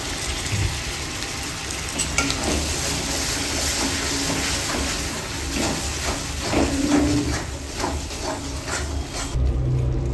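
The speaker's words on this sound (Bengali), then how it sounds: "তো এর মধ্যে আমি ঢেলে দিচ্ছি সর্ষে বাটা।" Mustard paste hitting hot oil in a pan for daab chingri, a loud, dense sizzle and hiss that runs steadily throughout with faint stirring scrapes, close up and with no voices.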